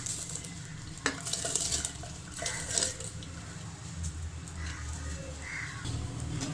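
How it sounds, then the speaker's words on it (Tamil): Rice being stirred in a pot while making sweet pongal gives soft scraping and gentle sizzling over a low background hum, with a few brighter clinks and a bird calling faintly outdoors. "அரிசியை சேர்த்துட்டு நல்லா கலந்து விட்டுக்கலாம்"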